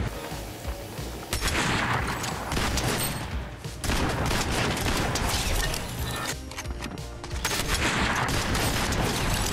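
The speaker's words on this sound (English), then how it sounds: "I hear shots." Dense bursts of rapid gunfire in Fortnite rattle on almost nonstop, loud and chaotic, with brief lulls between volleys and heavy impacts.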